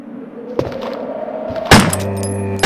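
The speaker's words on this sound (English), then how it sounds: "Explosion!" Explosion in the PlayStation 1 Resident Evil Director's Cut, a sudden loud crack and burst after some muffled thuds, followed by a ringing, humming tail.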